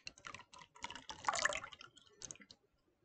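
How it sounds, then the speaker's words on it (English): Chopped onion pieces tumbling into a bowl of water, a quick spatter of small wet plops and splashes lasting a few seconds, close and fairly quiet, with no one talking. "You pour the onion, pour it in the water."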